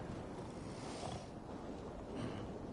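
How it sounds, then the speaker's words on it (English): Low, steady wind blows ahead of a storm in Assassin's Creed Valhalla, a faint continuous rushing with gentle swells and no voices. "Windy. Storm coming."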